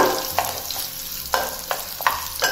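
Tempering oil sizzles over crushed black peppercorns in a pan for pongal, a steady close frying hiss with several sharper crackling bursts as it is stirred.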